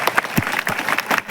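Audience clapping at a community gathering in a village, a brief burst of many hands applauding together, fairly near and lively, with no speech over it.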